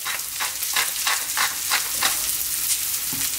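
Garlic and chicken stir-fry in a pan on maximum heat, giving a bright, loud sizzle with rhythmic scraping pulses from repeated tossing and stirring and no talk.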